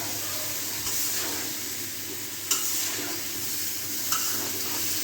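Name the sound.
bottle gourd and potatoes being stirred and sautéed in a pan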